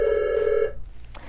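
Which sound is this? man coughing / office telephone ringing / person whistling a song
office telephone ringing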